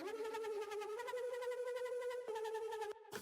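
A sustained synth pad from a modern hip hop instrumental, run through mix processing with the low end removed and a degrader adding grit, holds a steady stacked harmonic chord with a slight wobble, briefly dipping near the end.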